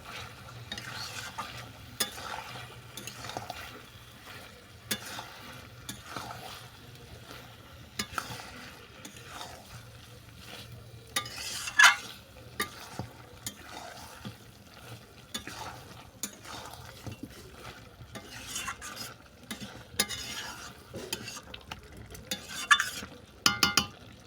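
Chicken pieces with kohlrabi stirred in a pan, with repeated scraping strokes of a spatula over a soft, steady sizzle. There are sharper clinks of metal against the pan at intervals.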